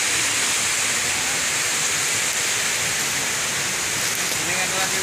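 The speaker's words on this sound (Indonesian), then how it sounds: "Ini kan lagi hujan di sini" Rain falls in a broad, constant wash at a rural Indonesian tourist site with water features, loud and unbroken throughout.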